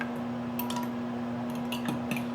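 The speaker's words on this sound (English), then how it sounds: "Go ahead and get a fork or a whisk. Get that all mixed together." A fork or whisk beats eggs in a bowl for a microwave frittata casserole, giving scattered light metallic clicks and taps against the bowl over a steady low electrical hum, with no talking.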